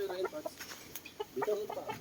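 Chickens cluck in a backyard coop, several short close clucks and warbling calls in two bursts with a quiet gap between.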